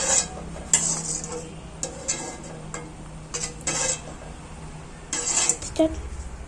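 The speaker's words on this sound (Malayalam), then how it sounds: "പാല് ഏകദേശം തിളച്ച് വരുന്നത് വരെ നമുക്കൊന്ന് ഇളക്കിയെടുക്കാം." A spoon stirs milk in a pot for payasam, giving intermittent metallic clinks and scrapes against the pot at close range over a quiet background.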